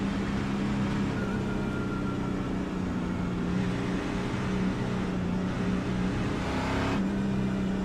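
Race car engine in the iRacing video game on the Atlanta oval, a continuous droning hum with steady tone held throughout, no talking over it.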